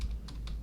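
A computer keyboard clicks out a brief run of four or five distinct keystrokes at a steady pace, close and clear with no talk.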